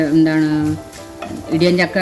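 Mustard seeds splutter in hot oil, sizzling and crackling briefly as they are stirred in a pan, with a voice talking over it.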